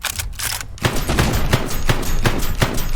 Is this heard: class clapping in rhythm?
no